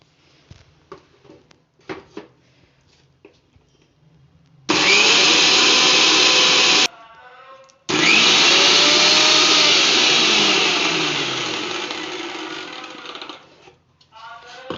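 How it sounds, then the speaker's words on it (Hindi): Electric kitchen grinder blitzing almonds, flax seeds and sesame together for healthy laddu, a loud steady whir in two bursts with a short pause between, the second run fading slightly before stopping; quiet handling noises come first. "बादाम और वो अलसी और तिल को एक साथ ग्राइंड करेंगे"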